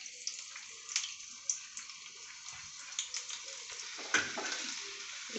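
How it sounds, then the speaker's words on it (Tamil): Ginger sizzling and crackling in hot ghee, with scattered pops and light stirring clicks throughout, close and steady. "நெய் நல்லா சூடாகிடுச்சு."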